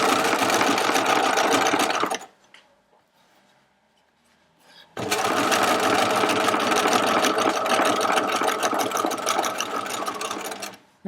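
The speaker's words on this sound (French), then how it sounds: "je fais vraiment attention de cacher l'ancienne couture" Sewing machine stitching a placket on fabric, a loud steady mechanical whirr that runs for about two seconds, stops briefly, then resumes for a long continuous stretch close up.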